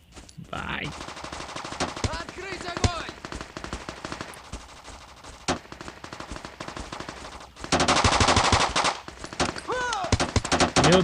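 Rapid gunfire in the video game Bullet Force, with dense automatic bursts and single shots that intensify toward the end, while someone talks over the shooting.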